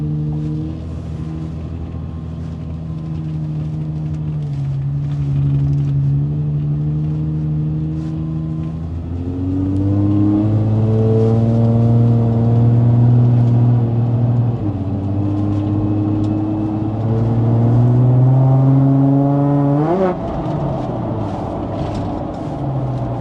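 Toyota engine in an FJ or 4Runner-type vehicle revving and accelerating, steady loud engine drone rising in pitch through several gear climbs, with a surge near the end and no speech.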